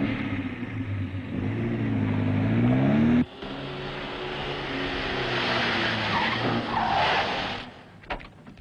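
A car engine revs hard and tires squeal as the vehicle pulls away, loud and close, with no voices.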